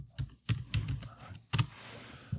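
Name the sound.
typing on a computer keyboard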